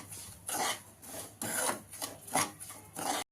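Semolina stirred in a pan gives rhythmic, gritty scraping strokes, close and fairly loud, about five passes in a few seconds with no voices.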